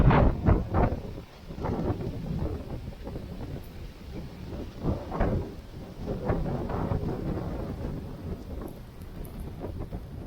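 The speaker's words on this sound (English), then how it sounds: "And Storm Babette continues." Strong Storm Babette wind buffets the microphone in a steady roaring rush with deep rumbling gusts on a grey day near Berwick-upon-Tweed in Northumberland, loud and continuous with no voices.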